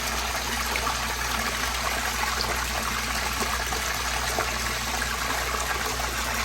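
Running water from a koi pond waterfall spilling over algae-covered rocks outdoors on a chilly fall day, a steady, broadband splashing and trickling that holds constant throughout with no voices.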